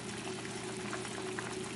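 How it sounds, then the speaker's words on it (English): Homemade clam stock is poured slowly off its settled sand, a steady, soft, bubbling liquid hiss with a faint hum underneath and no talking. "and you just pour it off slowly"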